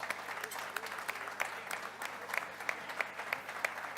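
An audience claps steadily at a formal evening panel, a moderate round of applause heard from a short distance with sharper individual claps standing out.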